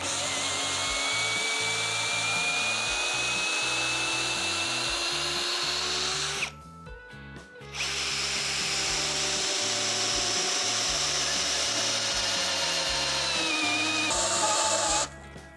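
A cordless drill on first speed bores into pine wood in two long bursts, its motor whining close and loud, with a brief pause in the middle before drilling resumes.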